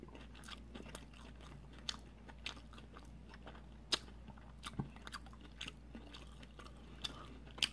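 Someone bites into crispy chicken wings topped with lemon and chews them up close, sharp crunches popping out at irregular intervals over quiet, steady mastication, with no talking.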